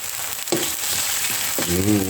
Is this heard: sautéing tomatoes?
yes